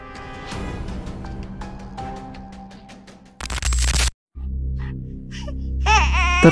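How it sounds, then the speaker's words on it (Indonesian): A little girl's heart-rending crying serves as a sound effect in a spooky narrated story, a wavering wail emerging briefly near the end after background music and a harsh static burst. "Terdengar suara tangis anak kecil yang sangat menyayat hati."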